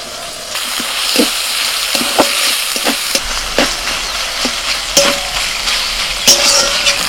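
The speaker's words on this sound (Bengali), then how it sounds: "পেঁয়াজটা ভাজা হলে ওর মধ্যে আদা রসুন বাটা দিচ্ছি। আলুগুলো খুব ভালো সেদ্ধ হয়েছে। এবার দিচ্ছি টমেটো কুচি" Chopped tomatoes sizzle in a pan with fried onion and ginger-garlic paste, giving a steady close frying hiss with scattered utensil scrapes and stirring clicks, no talk.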